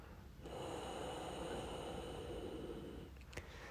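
One long, deep exhale through the nose during an Ashtanga yoga session, a close breathy rush lasting nearly three seconds, followed by a brief soft click.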